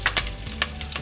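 Curry leaves crackle and pop in hot oil in a pan, with several sharp bursts over a steady sizzle, close and fairly loud, for a puffed rice upma.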